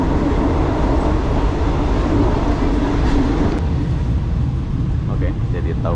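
A Thai passenger train travelling at night from Hat Yai to Bangkok gives a loud, continuous rumble and rattle from inside the carriage, with voices faintly mixed in.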